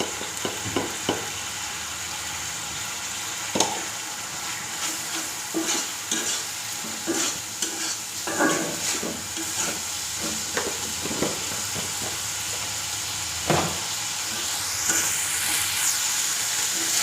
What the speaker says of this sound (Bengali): সেই মাছ সহ এবং মাছের অল্প একটু ঝোল এর ভিতরে দিয়ে কষিয়ে নিচ্ছি।